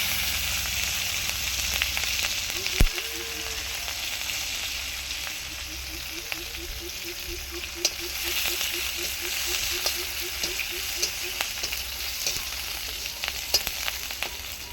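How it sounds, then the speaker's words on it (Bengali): Green chilies fry with cumin in hot tempering oil, giving a continuous sizzling hiss scattered with small pops and crackles, close up. "এবার ফোড়নে লঙ্কা দিলাম"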